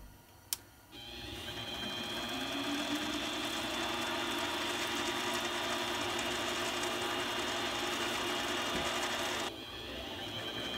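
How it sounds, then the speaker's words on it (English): A metal part for a lightsaber build spins in a lathe, a steady whirring hum with a high whine that starts after a sharp click and runs for about nine seconds before winding down. "Now that it's in the lathe, we're going to do the top plate too."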